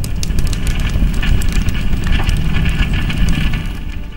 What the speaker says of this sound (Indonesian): termasuk api yang berkobar-kobar ini